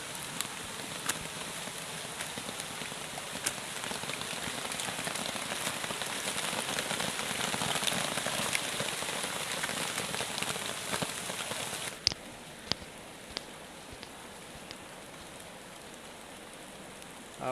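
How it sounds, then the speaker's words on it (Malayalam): Heavy rain pours steadily onto surfaces outdoors near a bridge, a dense continuous hiss that eases slightly after a few seconds, with scattered louder drips and taps standing out near the end. "മഴ ഊക്ക് കൂടി, നല്ല മഴയാ."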